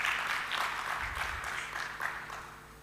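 An audience at an organized event claps in a short burst of applause, a soft, somewhat distant patter of many hands that fades slightly toward the end.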